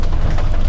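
Heavy rain drums on the roof and body of a 1989 Gypsy during a hill drive toward Shimla, a loud, dense, continuous roar with a deep rumble underneath and no voices.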